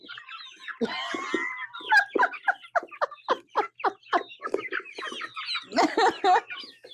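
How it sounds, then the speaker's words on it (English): Chickens cluck and chatter while eating, giving a busy run of close, rhythmic clucks and squawks with one louder burst of calls. "I'm letting the chickens actually eat the rest of their food"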